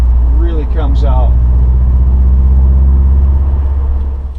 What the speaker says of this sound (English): That bubbly boxer sound just really comes out.